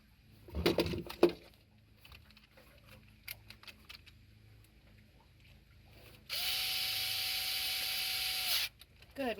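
Small screws go back into the fuel filter cover of a Honda 200 HP four-stroke outboard motor: a few quick rattling clicks, then quiet handling noises, then a steady two-second mechanical buzz from a driver close by.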